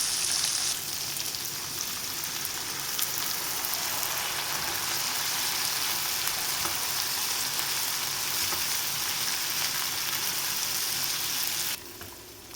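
Asparagus and fusilli pasta frying in a pan, giving a steady, dense sizzle that holds at an even level with no voices until it drops off sharply near the end.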